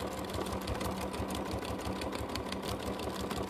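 A sewing machine stitches down a tote bag, running in a fast, steady mechanical whir close by, alone and without pause.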